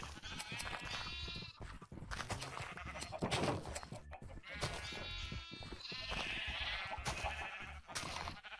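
Minecraft sheep bleat again and again during shearing with red wool in play, a series of loud, quavering calls from a small flock in the game, with no talking.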